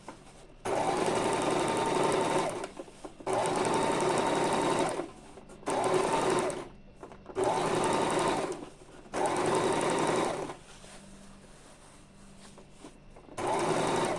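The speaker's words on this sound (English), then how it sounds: "after the point of the facing, I'm going to be sewing it loosely." An electric sewing machine stitches mikado fabric for a bubu garment in six or so whirring bursts of a few seconds each, separated by short pauses, close up and with no speech.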